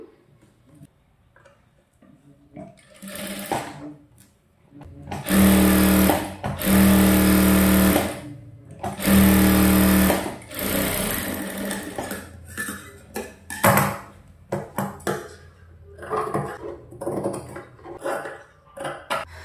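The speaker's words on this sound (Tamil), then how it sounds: "இப்போ லைனிங் மேலே அமுக்கடி, கழுத்தை சுற்றி தையல் போட்டுக்கலாம்." A sewing machine stitches blouse lining around the neckline in several loud, close runs of fast whirring hum, broken by pauses and lighter handling clicks.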